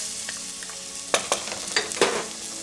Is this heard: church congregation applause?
no